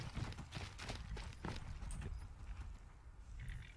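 Horse hooves clip-clop on the ground in the modded Skyrim Special Edition video game, a quiet, steady trotting rhythm of repeated soft hoof strikes at moderate distance.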